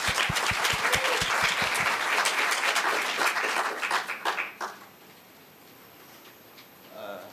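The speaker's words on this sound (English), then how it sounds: "Let's give them a round of applause." Audience applause for teen contest winners at a library event: dense clapping with a few sharp close claps at first, holding steady, then fading out around the halfway point into near silence.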